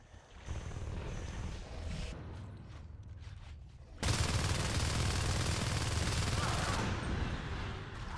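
Sustained automatic gunfire from a jetpack marine shoots at an alien harvester in Natural Selection, a dense rattling burst that swells suddenly halfway through and keeps hammering loudly to the end.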